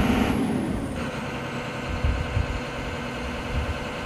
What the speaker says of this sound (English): With auto idle on, the engine speed will decrease to idle if a hydraulic function is not used for more than 5 seconds.